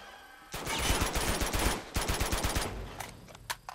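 Rapid automatic gunfire from the video game Uncharted 2: Among Thieves rattles in dense continuous bursts for several seconds, then breaks into a few scattered single shots.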